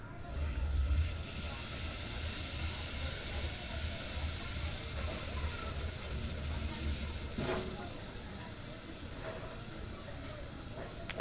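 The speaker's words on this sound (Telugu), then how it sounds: "కొంచెం అల్లం చిల్లిపాయ పేస్ట్ వేసుకొని వేయించుకోవాలి." Ginger chili paste and chicken keema frying in a pan, giving a steady broad sizzle that holds for the whole stretch and eases slightly toward the end, with one faint clink.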